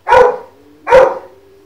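A pet dog barks twice, two sharp, loud, close woofs about a second apart, each trailing off into a brief fading tail, with no talk.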